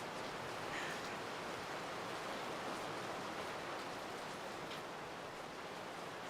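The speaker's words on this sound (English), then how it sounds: "The February rains have started to fall in nearby villages and are moving closer to Oruro at dawn" Steady rain falls at dawn near Oruro, Bolivia, in February, a continuous even hiss of drops with no voices.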